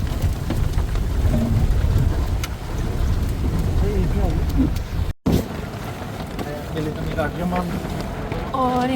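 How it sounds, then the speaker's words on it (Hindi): Heavy rain pours in the Dhikala forest with a dense, constant hiss and patter around a safari vehicle. A voice talks over the downpour throughout, broken by a brief cut-out in the middle. "बहुत ही भयानक बारिश हो रही है।"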